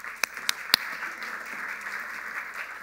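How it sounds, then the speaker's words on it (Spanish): An audience breaks into applause welcoming a speaker to the stage at an entrepreneurship talk. A few sharp early claps swell into a steady, moderately distant wash of clapping that carries on evenly, with no talking over it. "La recibimos con un fuerte aplauso."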